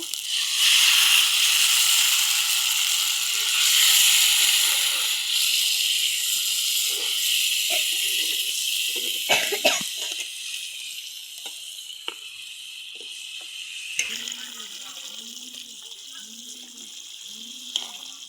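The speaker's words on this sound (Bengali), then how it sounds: "এখন এর মধ্যে হালকা পানি দিয়ে দিব" Water poured into a hot pan of pointed gourd curry sets off a loud hissing sizzle that gradually dies down into softer bubbling, with a few utensil knocks.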